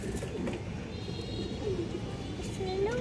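Pigeons at a pigeon farm, soft low cooing calls repeating close by under steady background noise, with someone talking over them.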